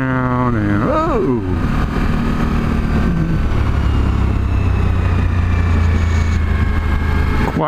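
A 2014 Suzuki V-Strom 1000 motorcycle revs up and accelerates along a road, its engine pitch rising sharply, then settling into a steady, loud drone with wind rush and occasional gear changes.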